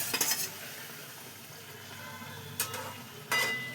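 Prawns tipped into a hot pan with water, giving a soft sizzle and a few sharp metallic scrapes and clinks of a spatula at close range, with no talk.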